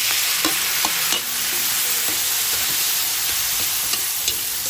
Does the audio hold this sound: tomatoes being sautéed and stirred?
yes